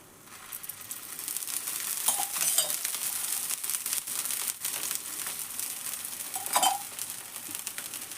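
Thalipattu of cabbage and wheat flour sizzling on a hot pan after oil is added, a steady close crackling hiss with brief louder pops and scraping touches partway through, no voices.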